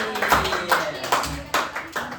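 A classroom group applauds after small-group discussion presentations, a few hands clapping in uneven bursts with talking mixed through.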